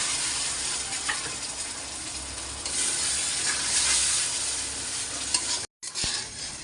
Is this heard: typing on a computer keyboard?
no